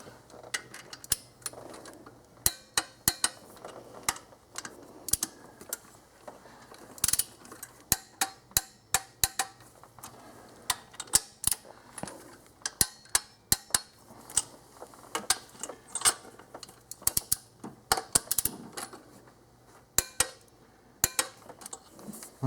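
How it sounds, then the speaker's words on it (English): A ratchet torque wrench tightening the mid intake bolts on a 2001 Infiniti QX4 engine gives quick bursts of sharp metallic clicking in many short runs, close and fairly loud, with no speech. "Okay, mid intake is torqued."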